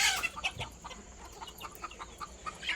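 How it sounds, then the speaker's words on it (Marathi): Free-range country chickens cluck softly and intermittently close by on a poultry farm, with light farmyard background noise. "हा पण उलट्या पाकाचा कोंबडा आहे"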